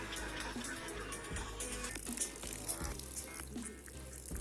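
Light water splashing onto a realme GT Neo 3T phone during a waterproof damage test, a steady close wash of spray and trickling that runs for the whole stretch with no pauses.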